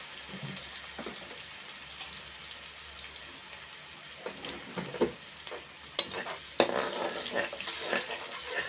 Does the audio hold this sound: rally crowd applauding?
no